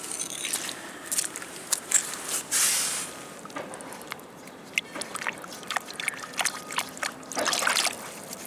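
An early 18th century clay pipe bowl is rinsed by hand in Thames river water on a misty morning, giving close, faint splashes and trickles with small sloshing bursts.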